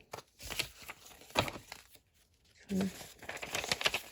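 A paper bag being cut with scissors and handled while making junk journal pockets, giving a few close, crisp crinkling and tearing bursts separated by quieter pauses.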